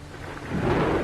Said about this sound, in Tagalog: Hala, lumakas pa lalo yung ulan.